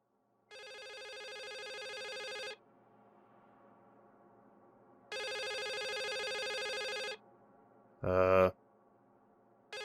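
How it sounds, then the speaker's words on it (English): A telephone rings in the horror video game The Suicide of Rachel Foster: two long, bright electronic rings separated by a pause, then a short louder burst, with no talking over them. "How do I answer phone?"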